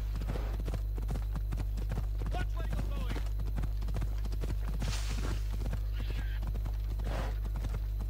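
A horse gallops in Assassin's Creed Odyssey, its hooves clip-clopping in a fast, steady rhythm throughout, while someone talks over the hoofbeats and a low constant hum sits underneath.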